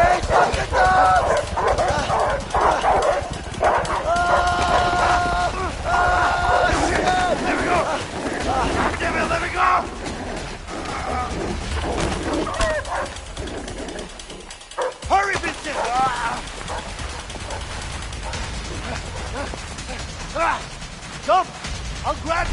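Dogs bark and yip as they chase in the video game A Way Out, the barking mixed with game effects and loud, urgent shouting voices throughout.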